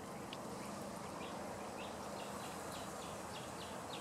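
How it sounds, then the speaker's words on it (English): Birds chirp faintly at intervals outdoors in the open on a breezy day, the brief high calls scattered across steady wind and broadband background noise. "64 degrees, breezy, birds are chirping, beautiful weather."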